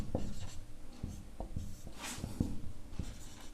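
Pen writing on paper while working a Class 9 maths problem, with short scratchy strokes and taps in an irregular rhythm, close and fairly clear, no voice over it.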